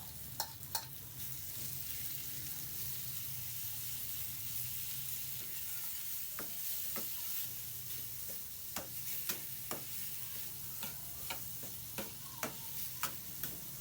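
Chicken fries in two tablespoons of oil in a pan, giving a soft continuous sizzle, with scattered light ticks and taps from stirring that come more often in the second half.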